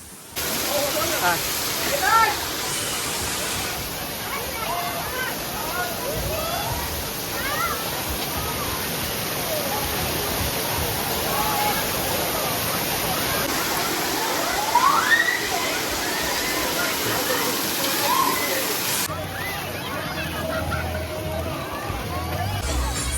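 Water pours down from a height at a water amusement park, a loud continuous rushing roar near a hillside wave pool area, with crowd babble mixed in.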